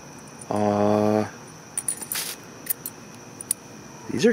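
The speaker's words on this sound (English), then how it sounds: "These are keys on a little lanyard." Keys on a small lanyard jangle in one brief metallic shake outdoors at night beside a store dumpster, followed by quieter rustling and scattered small clicks.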